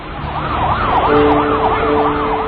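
A loud, close ambulance siren wails in a fast repeating up-and-down pattern over traffic and engine rumble after the Manila hostage crisis, with a steady horn tone joining partway through.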